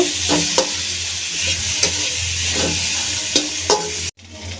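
Vegetables and spices sautéing over medium heat in a pan for a cauliflower dish: a steady close sizzle with a few sharp scrapes of stirring, ending in a sudden cutoff.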